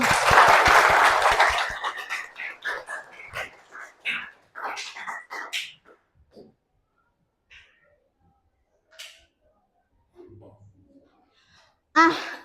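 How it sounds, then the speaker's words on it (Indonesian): Audience applause fills a session room during a teacher training talk, a dense loud burst lasting under two seconds before fading into scattered voices and light movement. "Kita beri aplaus buat kita semua."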